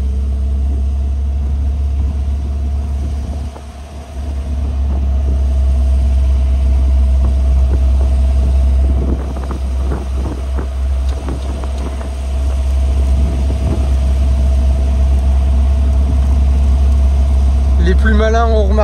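An MGB sports car with a modified exhaust idles loudly and steadily, its engine note swelling briefly at times, while someone talks over it in French.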